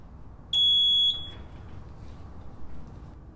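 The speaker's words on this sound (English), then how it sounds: "Push and hold until you hear a beep." A fire alarm panel gives a single steady high-pitched beep of about half a second as its button is held, sounding clearly over quiet room hum.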